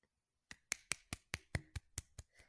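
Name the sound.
hands imitating a drum roll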